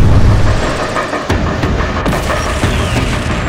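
In a combat helicopter video game, an AW249 fires a missile: a loud booming launch blast followed by sharp crackling bursts and impacts, close and short.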